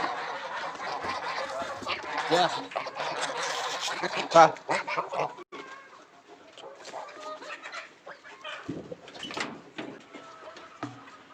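Village chickens and chicks clucking and squawking nearby as they are let out to feed, while a person talks over them, the birds louder at first and then quieter.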